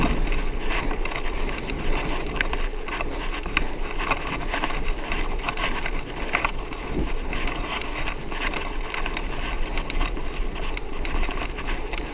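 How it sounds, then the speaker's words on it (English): Wind buffeting the microphone of someone riding a bicycle outdoors, a steady, loud rushing roar with no break. "Bit of wind today as well."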